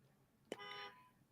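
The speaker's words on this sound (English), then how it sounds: "Somebody honking outside." A car horn honks once outside, a short tonal blast of just under half a second with a sharp onset, faint and distant against a quiet indoor background.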